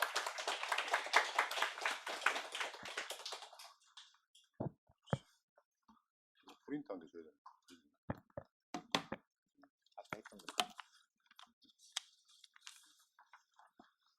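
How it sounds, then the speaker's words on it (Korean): An audience at a firefighter interview briefing claps in welcome, a brief burst of applause that quickly thins into scattered claps, knocks and small room noises. "박수로 환영해 주십시오"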